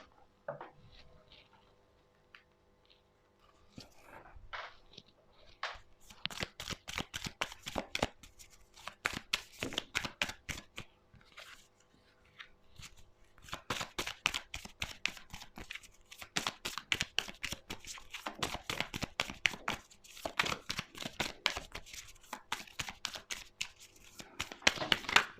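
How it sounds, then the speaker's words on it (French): Tarot cards being handled and turned over on a table, with sparse soft taps at first and then long runs of rapid crisp riffling and flicking bursts, close and fairly quiet, with no talking. "Je vais retourner les cartes pour nos amis les béliers."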